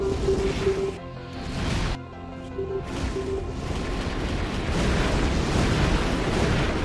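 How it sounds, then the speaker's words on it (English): Sniper cannon fire in the Armored Core: For Answer mech game amid loud battle noise: several heavy booming shots with short gaps and whining mechanical tones, followed by a sustained roaring rumble, with no speech. "Fucking hell, that's sniper cannon."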